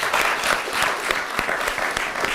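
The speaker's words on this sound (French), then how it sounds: "Applaudissez pour vous-même." A studio audience on a French-language television game show claps steadily throughout, a dense, continuous applause with individual hand claps standing out, with no talking over it.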